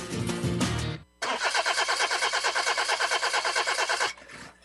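A car engine cranks but fails to start, a steady rapid chugging of the starter repeating evenly for about three seconds, loud and close, after a brief burst of music.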